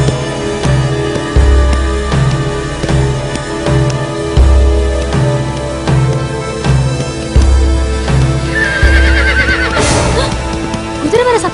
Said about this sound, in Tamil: குதிரை வர சத்தம் கேக்குதுடி.